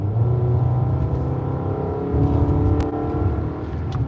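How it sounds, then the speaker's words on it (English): Struggling car engine revving close by, a steady rough droning hum that swells briefly midway and then settles, with no talk over it. "Y'all hear my car? Y'all hear that bitch struggling?"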